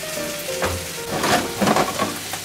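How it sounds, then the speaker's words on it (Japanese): Mushroom soaking liquid bubbles and hisses as it reduces in a hot pan, a steady low sizzle with occasional louder spits and crackles. "で、ここにキノコの戻し汁入れて。 最初にキノコ戻したんですね。"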